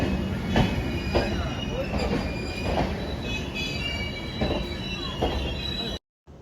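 A train rolls past close by at a platform of Bolpur Shantiniketan station, with metallic wheel squeals and a rhythmic clatter of wheels over the rails.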